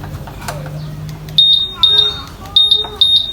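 A Honda Vario 150 motorcycle anti-theft alarm gives repeated high electronic beeps in short bursts of two or three, loud and close, with a faint voice at the start.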